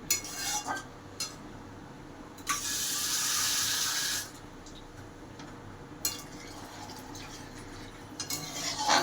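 Water pours from a tap in two steady bursts into a potato-peel kofta curry at a kitchen sink, with clinks of a utensil against the pot in between.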